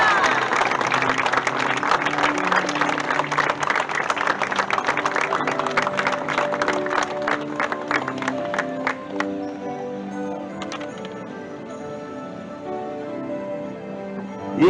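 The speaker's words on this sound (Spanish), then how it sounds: "Fuerte el aplauso y el recuerdo a nuestros héroes de la causa Malvinas" A crowd at a commemoration for the Malvinas war veterans and fallen applauds heroes of the Malvinas cause. Dense clapping is strong at first, thins into scattered claps after about nine seconds, and voices are heard at the edges.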